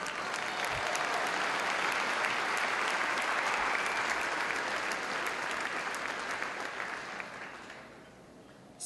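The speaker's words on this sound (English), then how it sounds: "let's applaud each other tonight by being here" An audience claps in dense, sustained applause at a county Republican Party dinner. It stays loud and steady for several seconds, then tapers off toward the end.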